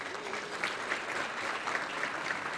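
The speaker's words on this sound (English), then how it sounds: "We're going to keep clapping, folks." Sustained audience applause at a housing awards luncheon, a dense steady wash of many hands clapping throughout with no voices over it.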